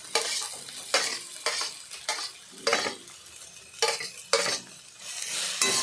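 Fenugreek greens fried with potato and beans are stirred briskly in a pan, sending a loud, rhythmic series of metal scrapes over a constant sizzle.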